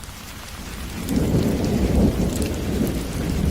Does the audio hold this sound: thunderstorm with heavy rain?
yes